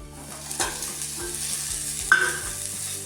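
Green peas sizzle and are stirred while roasting in a pan, with a steady frying hiss and a few scraping stirs, close and alone.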